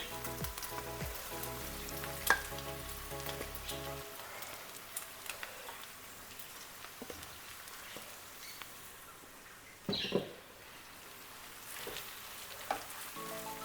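A Persian herb frittata egg mixture hits a hot pan and sizzles, a soft, steady frying hiss with occasional small pops and stirring scrapes, close and low in level.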